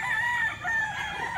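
A single long rooster crow rings out nearby at a poultry market where chickens are sold, over a soft background of fowl and market noise.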